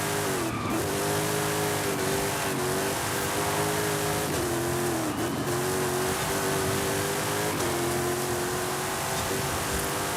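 A muscle car tuned for grip races in a video racing game, its loud, steady engine roar rising and falling in pitch with tire squeal mixed in, continuous and alone.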